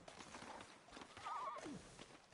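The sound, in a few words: horses neighing in a video game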